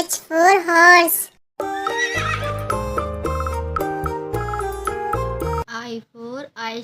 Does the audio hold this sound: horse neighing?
yes